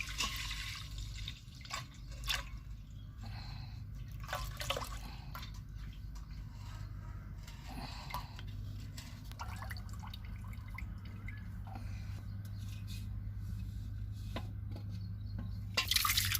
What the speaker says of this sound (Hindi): अब मट्ठे को हम अलग निकाल लेते हैं एक भगोने में।